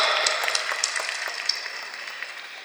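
Audience applause at a film trailer launch event, a dense, continuous crackle of many hands clapping, fairly loud and slowly fading over a few seconds.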